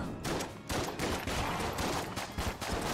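Rapid bursts of gunfire in the video game Enter the Gungeon, a dense run of quick shots with brief gaps between volleys, fairly faint and continuous across the whole stretch.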